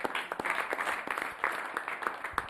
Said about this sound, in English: give a hand clap